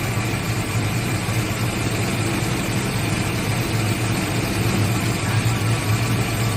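A 1986 Ford Mustang engine idles low and steady after new plugs and wires, a continuous deep rumble with a slight hum that holds at an even level throughout, no voices.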